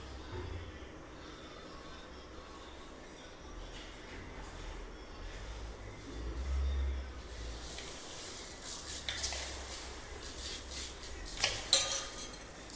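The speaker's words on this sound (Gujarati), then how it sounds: "હવે આપણે એને દિવેલથી મોઈ લઈશું। એટલે ચોખામાં દિવેલ નાખશું" Raw rice grains mixed by hand with castor oil in a metal vessel, a soft grainy rustling and rubbing that grows busier toward the end, with occasional light clinks against the pot.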